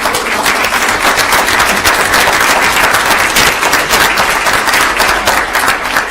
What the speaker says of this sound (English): let's give them a huge round of applause